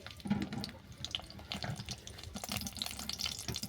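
Sliced onion dropped into hot mustard oil in a pan, hissing and sizzling in a bubbling, watery rush with irregular crackles, fairly quiet and close.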